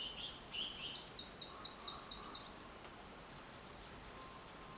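Birds sing outdoors on a quiet morning, with repeated rapid chirping phrases and trills that sound fairly distant over soft background ambience; there is no talking.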